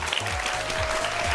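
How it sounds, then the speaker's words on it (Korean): An audience claps to welcome two guests at a science lecture event, a short, even patter of many hands throughout with a faint steady tone running underneath. "오늘의 주인공 두 분 박수로 환영해 주시기 바랍니다"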